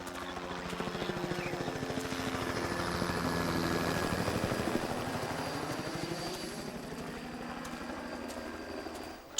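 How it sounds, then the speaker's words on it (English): A helicopter draws near and hovers loudly, its rotor chopping in a steady rapid pulse with a turbine whine above it. It is heard alone and holds a fairly even level before easing off toward the end, at a rhino capture. "the helicopter has arrived to find and dart Chimpanya"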